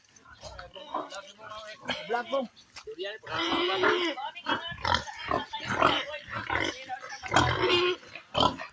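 Pigs grunting and snorting close by, with people talking over the animals throughout.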